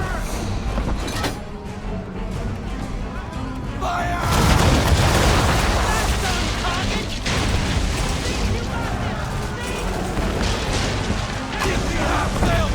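Heavy booming cannon fire in an Assassin's Creed III naval battle at Chesapeake Bay, a deep blast around the middle followed by rumbling volleys and shouted orders under a loud orchestral-battle din.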